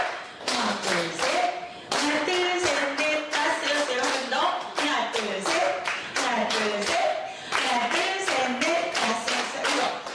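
An audience split into two groups claps the rhythmic Korean 3-3-7 cheer, repeating it twice: loud, close, tightly grouped hand claps in bursts of three, three and seven, with brief pauses between groups and scattered voices mixed in.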